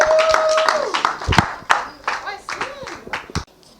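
Clapping from the audience at a Christmas party held by an NGO for blind children, a few seconds of hand claps mixed with a voice speaking over a microphone and a tonal hum, fading toward the end.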